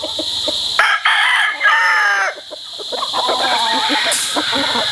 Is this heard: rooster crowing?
yes